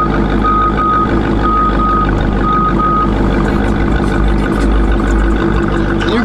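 A truck backs up in a crowded parking area, its reversing alarm giving a series of evenly spaced beeps over a loud, steady engine rumble.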